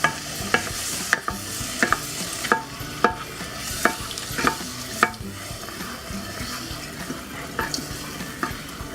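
Chicken pot pie mixture being stirred in a pan as milk is slowly added, with soft repeated scraping strokes and faint sizzling over a steady background wash, no talking.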